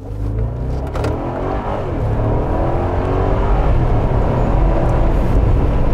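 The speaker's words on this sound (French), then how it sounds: "le bruit du V8 est sympa." The V8 of a Mercedes G 500 off-roader, driven in first gear with paddle shifters, roars loudly and builds steadily as the big SUV accelerates, its engine note rising and filling the cabin.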